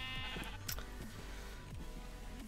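Blocky Minecraft sheep bleat several times in quick succession. The wavering baas are quiet and set against a faint steady hum.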